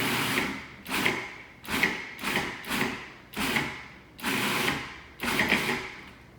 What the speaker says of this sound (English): Use a good food processor and do pulse.